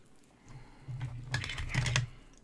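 A computer keyboard, a spare swapped in to manually recover a Raspberry Pi after an SD card failure, is typed on in bursts of close, clicky keystrokes that grow busier toward the middle with no talking.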